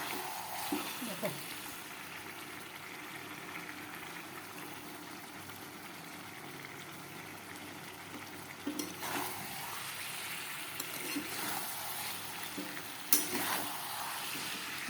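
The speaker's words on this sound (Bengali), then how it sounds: "মাংস একদমই কষা হয়ে গেছে দেখো" Meat sizzles and fries in oil in a pan while being sautéed kosha-style, a steady hiss broken by a few clinks and stirring scrapes, with a voice talking over it.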